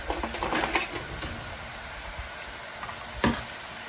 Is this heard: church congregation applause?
no